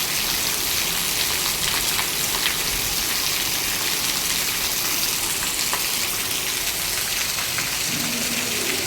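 Torrential downpour drenches a village, a loud, continuous roar of rain with scattered heavier drops and a faint low rumble beneath, no one speaking.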